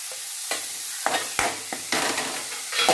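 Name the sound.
onion, carrot and green chili frying in hot oil with curry leaves, stirred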